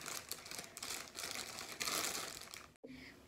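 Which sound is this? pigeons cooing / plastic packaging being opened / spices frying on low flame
plastic packaging being opened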